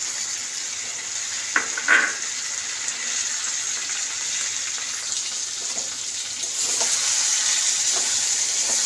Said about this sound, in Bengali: এবার টমেটোটা দিয়ে দিলাম।